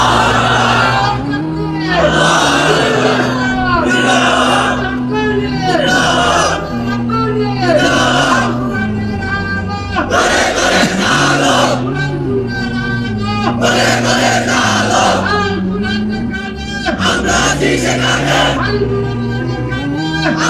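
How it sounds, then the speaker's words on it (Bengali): Large crowd at a Bangla Islamic religious sermon shouting takbir chants in loud, rhythmic bursts, with a sustained low drone beneath and repeated surges of many voices. "তোমরাই স্লোগান দাও, তোমরাই তাকবীর বলো"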